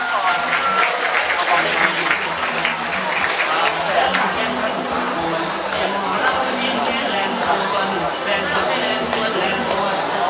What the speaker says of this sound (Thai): ปรบมือเป็นกำลังใจให้อาจารย์จากมหาลัยเราด้วยนะครับน้องๆนิสิตนักศึกษา